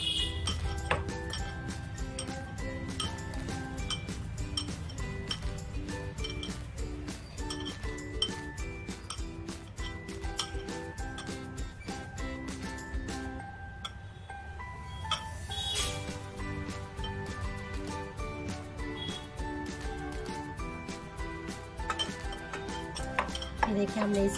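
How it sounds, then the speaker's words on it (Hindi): Boiled potatoes with salt and chaat masala mashed by hand in a bowl, a steady run of soft thuds and clinks of utensil against dish repeating throughout at moderate, close level. "इसको हम मैश करेंगे अच्छे से।"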